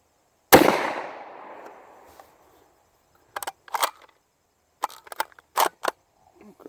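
A Marlin 512 Slugmaster slug shotgun fires one loud, close blast at a target, and the report decays over about a second and a half. Short handling clicks and rustles follow, likely the action being worked.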